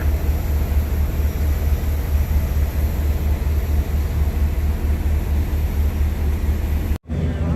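Inside the passenger cabin of a Wings Air airplane flying through thick cloud, a loud, steady engine roar and broadband rush fills the air, broken only by a brief dropout near the end.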